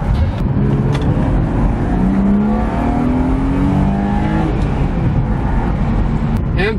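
Engine noise from a BMW M3 sedan with an M50 intake manifold swap, short ram intake, performance tune and underdrive pulleys: a steady, loud drone with rising pitch sweeps as it revs up through the top end, continuous throughout.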